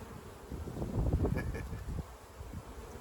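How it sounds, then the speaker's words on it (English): Honey bees buzz around an open hive during an inspection, a steady near hum swelling louder midway with wind rustle underneath and no talking. "Little bee"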